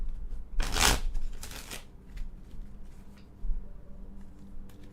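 A deck of tarot cards is shuffled close by in two quick riffling bursts, followed by softer handling and tapping of the cards in a quiet room.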